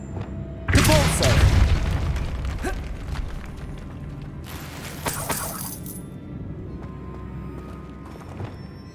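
A Depulso force spell cast in Hogwarts Legacy lands as a loud, booming blast with a shattering crackle, followed a few seconds later by a second, shorter burst over steady game ambience.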